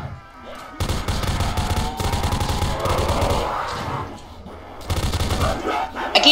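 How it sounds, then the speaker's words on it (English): Rapid automatic bursts from a Vector gun in the Roblox video game, fired like a heavy machine gun in loud sustained volleys with short pauses, a voice talking faintly under the shooting. "the vector sounds like a fat machine gun"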